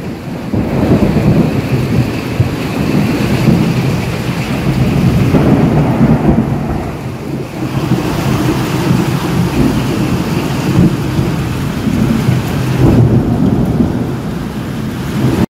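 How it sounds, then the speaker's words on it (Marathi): Heavy evening downpour in Banda with thunder and lightning: a loud, steady roar of rain with deep rolling thunder rumbling underneath, close and continuous, no voices. "काल सायंकाळी बांदा येथे विजेच्या कडकडाटासह पावसाला जोरदार सुरुवात झाली."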